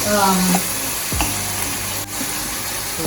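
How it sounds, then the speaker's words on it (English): Vegetables sauté in a pan for a Caribbean saltfish dish, a steady close sizzle with a couple of stirring scrapes and a brief clatter, no one talking. "let my vegetable cook. Translucent. Saute here."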